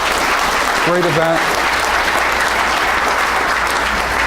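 A crowd at a 2018 State of the City address breaks into a loud, full round of applause, continuous dense clapping throughout, with a brief voice speaking over it early on.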